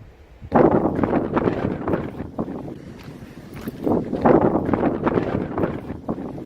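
Strong gusts of wind at Morte Point, a coastal headland, buffet the microphone with a rough, continuous rumble that swells and eases, loud and close throughout.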